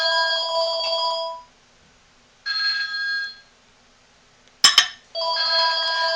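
An indoor telephone bell ringing in a home while lotion is being made, three separate trilling rings with silent gaps between them and a short sharp clatter just before the last ring.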